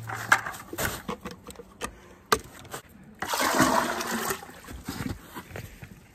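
Maple sap is poured into a collection cube, heard close as a gushing, splashing flow that swells midway, with knocks and clunks of containers before and after.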